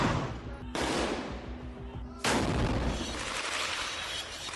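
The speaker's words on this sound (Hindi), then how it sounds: "वहां तोपों और गन से ऐसी बौछार होती है जिसकी कल्पना भी हमास ने नहीं की" A barrage of gunfire and artillery erupts in a Gaza combat area. Sharp, loud blasts hit with a ringing decay, one early and a heavier one about halfway through, each fading into rumbling echo.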